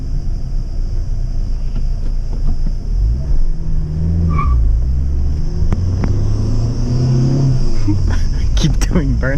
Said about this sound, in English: Keep doing burnouts, bro.